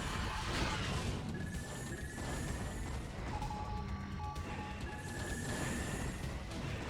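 A chaotic StarCraft: Brood War battle as a Protoss carrier dies, with explosions, crashes and mechanical noise, plus a few thin electronic tones sweeping through, loud and dense throughout.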